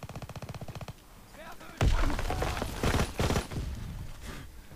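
Burst-fire gun in Call of Duty WW2 shooting in quick bursts, a rapid rattling volley followed by louder, dense shots with in-game noise, heard without talk.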